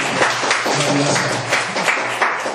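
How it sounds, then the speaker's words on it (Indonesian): A seated audience at a health testimonial talk gives a short burst of applause, moderately close, with uneven clapping and a low hum beneath. "Tepuk tangan ya."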